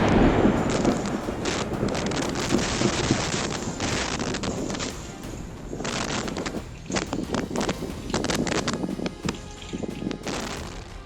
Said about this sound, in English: Seattle battled fierce winds with yard furniture,